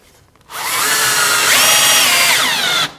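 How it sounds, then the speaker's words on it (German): A power drill runs on wood at close range, used with a post-hole bit to pre-drill a hole for a screw: one steady whirring burst of about two seconds, its pitch rising briefly midway, with no talk. "damit bohrt ihr dann mit einem Pfostenbohrer beispielsweise das Loch vor"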